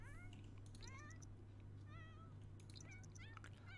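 Cats meow in The Sims 4, several short rising and falling mews repeating through the clip over a steady low hum of game background sound, moderately close with no talking.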